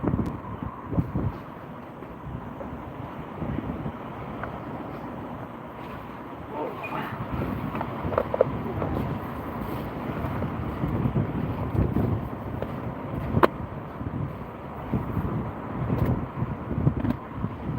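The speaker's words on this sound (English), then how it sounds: "it's windy, isn't it?" Strong wind at sea buffets the microphone while kayak fishing, a constant rough rumble with gusty bursts that rise and fall over nearly eighteen seconds, with faint voices underneath.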